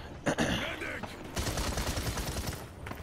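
Rapid bursts of gunfire ring out in the Paladins shooter game, loud and dense through most of the stretch, mixed with game effects and a voice talking over the shots.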